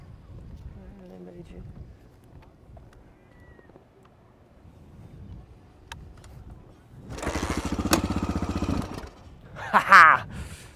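A Honda XR600R dirt bike being kick-started after difficulty. Quiet, faint fumbling and wind come first, then a loud burst of engine sputter lasts about two seconds, a brief pause follows, and a short sharp roar closes it as the engine fires.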